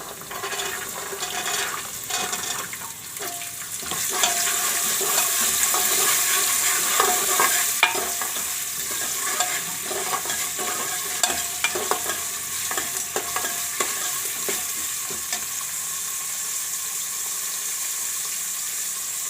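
Fresh green val beans tumble into hot oil for a Gujarati vaal shaak, bursting into a loud, steady sizzle that runs throughout, with scraping stirs and spoon knocks against the pan.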